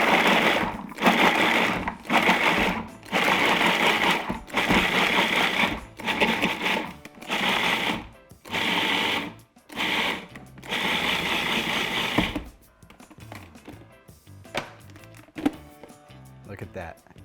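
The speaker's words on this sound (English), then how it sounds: "Toss these into the food processor. What we're gonna do is we're gonna blitz this until not quite a paste." A food processor blitzes carrots and other vegetables for stock in a run of short, loud whirring pulses with brief gaps between them, followed by quieter clattering and handling.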